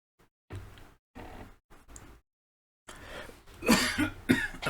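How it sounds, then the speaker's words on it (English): Several coughs, close and fairly loud: a few short ones, a pause, then a harsher, louder burst of coughing. "Sorry, I had a cough."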